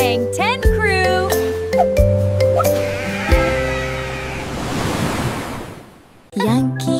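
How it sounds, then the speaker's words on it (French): A sheep bleats in several wavering, quavering calls over a continuous wash of ocean surf and wind, with a brief pause near the end before more bleating. "Mouton surfeur,"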